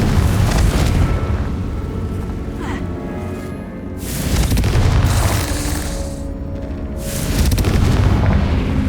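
Confringo fire spell exploding in the Hogwarts Legacy video game, inside a tomb: a series of loud, deep booming blasts with rumbling tails, swelling and fading in waves close up.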